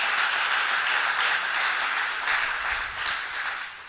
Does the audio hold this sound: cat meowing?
no